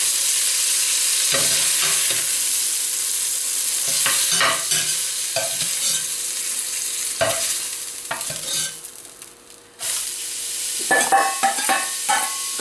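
Chopped onions frying in lardon fat in a cast-iron pot for a beef daube, a steady sizzle broken by scraping stirs of a spoon against the metal, close and alone with no talk.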